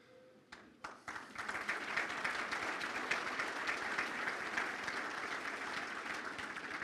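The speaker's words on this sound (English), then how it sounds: "stand up so we can applaud you and recognize your efforts" Sustained audience applause fills an awards banquet hall for sponsors of a fire division's annual awards event, starting abruptly after a brief lull and holding steady as a dense, even wash of many hands clapping.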